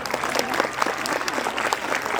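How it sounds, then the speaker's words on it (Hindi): An audience at a school award presentation claps for the teachers, a dense, sustained round of applause from a room full of people with a few faint voices mixed in. "superb applause to all these teachers, for all these teachers"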